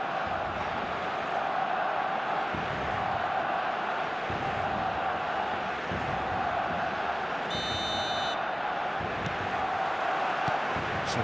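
A stadium crowd roars on match day in the eFootball video game, a continuous dense wash of voices with a brief electronic tone partway through.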